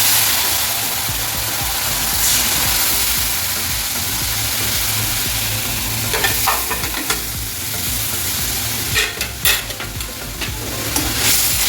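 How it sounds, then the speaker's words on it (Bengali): Ground spices like coriander, turmeric and chili powder fry in a pan for a paneer curry, giving a steady loud sizzle with occasional scraping stirs toward the end and no talk. "এখন আমি মশলাটাকে ভালোভাবে কষিয়ে নেব।"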